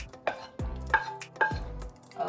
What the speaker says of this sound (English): We're gonna add it to the sauce. Be careful, splattering can happen.